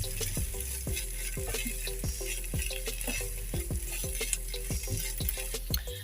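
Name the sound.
stirring milk cream mixture for chicken cheese egg rolls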